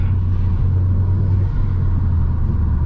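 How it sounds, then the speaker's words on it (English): A Mk1 Seat Leon Cupra R engine during a gear downshift, a steady low rumbling drone heard from inside the car, constant in level with no talk over it. "Let's drop a few gears"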